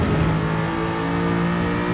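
An Aston Martin race car in Gran Turismo 7 drones through a long, slowly climbing rev, a steady loud engine tone with no break or talking.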